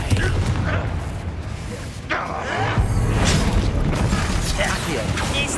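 A Confringo blasting spell explosion in the Hogwarts Legacy video game, heavy booming blasts and whooshing impacts amid combat clatter, with a voice calling out spells over the noise.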